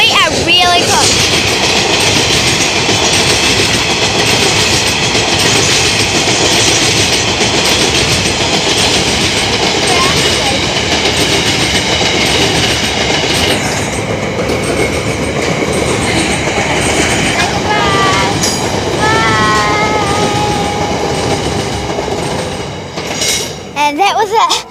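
A coal train passes very close by in Hillsborough, a loud continuous rumble and clatter of rail cars with wheel squeal, filling nearly the whole span before ending abruptly; voices are faintly heard near the end.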